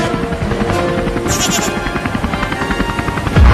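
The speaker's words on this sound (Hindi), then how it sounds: "वहाँ नीचे लेकर चल हेलीकॉप्टर को" Steady rotor chop from a helicopter fills the clip, a continuous pulsing drone heard close by, with a brief thump at the end.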